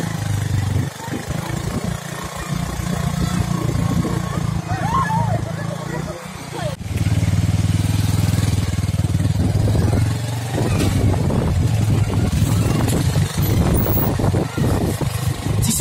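Motorcycles ride along a snow-covered road at Resunga in Gulmi, Nepal, their engines rumbling and rising beneath someone talking steadily over the scene.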